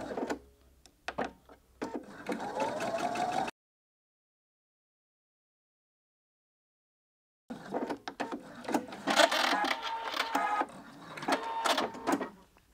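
Top stitching a 3/8 inch line to hold bias binding in place, a sewing machine runs in two close, moderate bursts with a silent gap between them.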